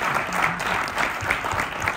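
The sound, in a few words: applause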